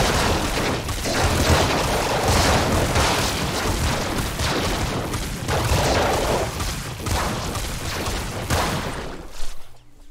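Dense, continuous bursts of area-effect gunfire and explosions from the Nuclear Throne video game, loud, rumbling and overlapping for about ten seconds before cutting off abruptly, with no talk over them.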